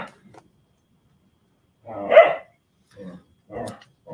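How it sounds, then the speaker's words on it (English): Dogs barking and scuffling under a table indoors: one loud bark burst near the middle, followed by a few shorter, quieter barks or yips, with silence before. "I might want to accomplish telling my dogs how not to bark when I'm trying to do this"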